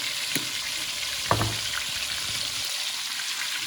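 Ingredients sizzle in very hot oil for a sauce, a steady broadband crackle with a couple of sharp clinks from a utensil partway through, close and fairly loud.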